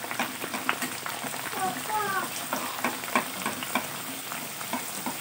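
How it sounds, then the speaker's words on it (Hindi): Bhature frying in hot oil as it is splashed over them, a busy close sizzle and bubbling crackle running throughout, with a voice talking over it. "तो अब हम फ्राई करना स्टार्ट करते हैं।"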